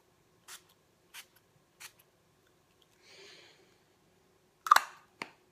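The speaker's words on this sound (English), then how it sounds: "Oh, it smells quite fresh. I'm gonna spray some." A body spray mist from a beauty box product gives one soft hissing burst around the middle, with sharper clicks before and after, heard close and alone with no talking.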